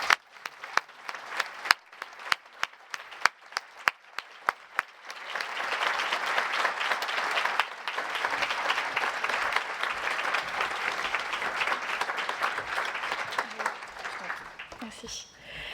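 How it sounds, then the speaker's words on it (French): A conference audience applauds at an executive luncheon in Montreal during an award presentation, starting with scattered claps mixed with a voice and swelling into loud, sustained, close-up applause that continues steadily to the end. "Je vous demande de l'applaudir, s'il vous plaît."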